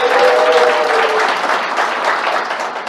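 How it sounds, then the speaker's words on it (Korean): Loud, dense applause from an audience welcoming a co-chair of a citizens' federation for fair military service to the stage, steady throughout with a brief faint tonal voice in the opening second. "여러분 큰 박수로 환영해 주십시오."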